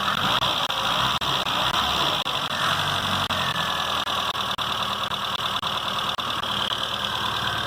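A Mini Cooper MPI engine runs close by with a steady, buzzy idle after a fuel injector repair. Faint regular ticks sound through the running.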